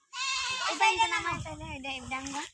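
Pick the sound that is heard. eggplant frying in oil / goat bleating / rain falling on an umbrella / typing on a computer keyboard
goat bleating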